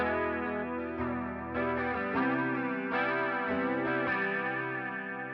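An electric guitar played through a Quad Cortex wet drive effect, strummed chords ringing out with a distorted, chorus-like shimmer, several chord changes in a steady rhythm, close and alone.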